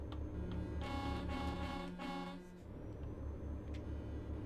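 A truck horn in Euro Truck Simulator 2 sounds a sustained blast lasting about two seconds over the steady rumble of the truck engine, loud and close, then the engine drones on alone.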